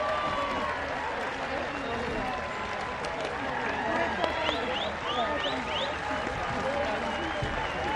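Australia fans at a 2017 Women's Rugby World Cup match against Ireland applaud their team, a broad stadium roar of clapping and crowd noise that holds steady throughout.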